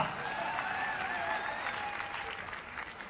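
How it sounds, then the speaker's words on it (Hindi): A poetry festival audience applauds steadily, a dense patter of clapping that carries on evenly and fairly quietly throughout. "ताली बजा तो ढंग से बजा जरा।"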